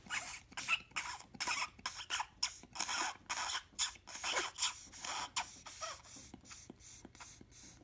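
A clogged tobacco pipe stem is cleared with repeated short, breathy blows and rasps, close and rhythmic, about a dozen bursts in quick succession that grow slightly fainter toward the end.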